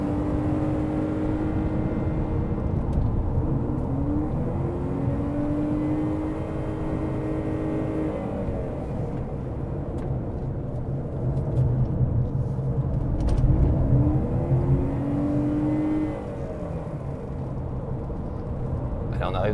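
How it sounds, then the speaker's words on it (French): Honda CR-V Hybrid pulling out of a tight bend on a mountain circuit, its engine rising in a steady rumbling drone with electric assist, heard beneath continuous talk. "Ça repart bien avec l'aide du moteur électrique."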